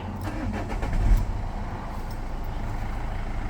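A Renault Master horsebox engine cranks and fires, with a heavy low rumble swelling near one second and then settling into a steady diesel idle close by.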